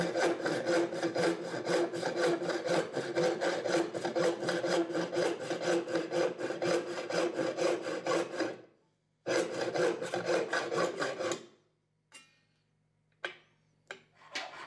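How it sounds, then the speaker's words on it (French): A hacksaw rasps back and forth through a metal piece held in a vise in a fast steady rhythm for several seconds, pauses, resumes, then stops with a few scattered clicks. "Sciez ce morceau à l'aide de la scie à métaux."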